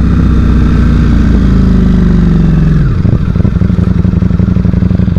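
A Ducati Streetfighter V4 engine, still being run in, holds a loud high rev that drops sharply to a lumpy, throbbing idle, very close with no voices.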